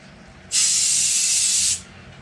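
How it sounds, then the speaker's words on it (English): A single burst of gold spray paint from a can: a bright, steady hiss lasting just over a second, starting and stopping abruptly against a quiet background. "So I've got my gold paint here, and I just give it a light spray."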